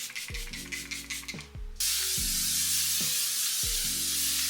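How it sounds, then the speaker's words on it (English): Several short hissing bursts of L'Oreal Paris makeup setting spray from a pump bottle, then one longer continuous spray, close and fairly quiet, with a low hum underneath. "I'm going in first with this setting spray"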